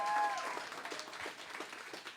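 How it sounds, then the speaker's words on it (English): An audience claps at a final-night celebration event. The applause is fairly faint and steady with scattered individual claps, and it tapers slightly over two seconds. "Clap for Bridget."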